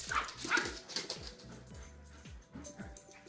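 Puppies play and bark indoors, giving quick yips and small woofs with a few whimpers in between, in an uneven, excited rhythm that sounds fairly faint and a little distant.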